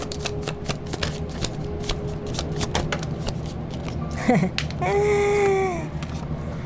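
Tarot cards riffle and flick in a steady, close run of crisp shuffling, with a voice talking over it and a brief chime-like tone near the end.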